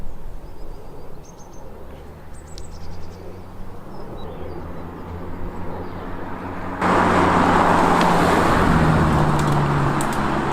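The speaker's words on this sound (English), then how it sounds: "Epic drive, and so good to be behind the wheel of an Audi R8, the V10 model with carbon ceramic brakes and an R-tronic gearbox." An Audi R8 V10 with carbon ceramic brakes and an R-tronic gearbox drives along, its engine a steady droning rumble with shifting tones that grows noticeably louder and brighter partway through. No voices.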